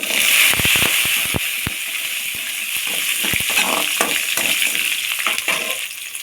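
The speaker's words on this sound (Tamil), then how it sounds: "இப்போ சின்ன வெங்காயம் சேர்க்கலாம்" Small shallots sautéing in a pan with roasted dal for kadamba chutney, a steady close sizzle with scattered sharp clicks and pops from a spoon against the pan throughout.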